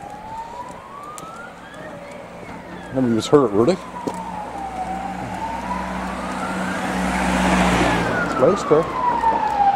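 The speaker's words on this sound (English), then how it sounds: "Ah, that's another police van. Another police van." A police van siren wails in long rising and falling sweeps, passing by on a street while people talk nearby.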